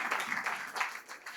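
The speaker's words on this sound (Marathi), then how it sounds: "टाळ्या वाजवून देवाला धन्यवाद देऊ." A church congregation claps together in thanks to God, a fairly even run of rhythmic claps over the whole moment.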